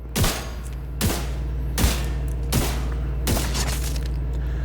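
Dread Edict rifle fire in The Division 2, five heavy booming shots spaced evenly about three-quarters of a second apart, each with a loud sharp crack and a rolling tail, no talking.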